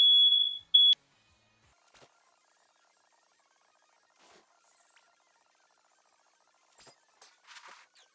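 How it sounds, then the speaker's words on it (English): An apartment smoke alarm set off by cooking smoke gives one piercing, sustained high beep lasting nearly a second, then cuts out, leaving near-silence with only faint scattered clicks. "Whenever we try to cook, sometimes in my apartment, the fire alarm just goes off, even though it's just kind of smoky."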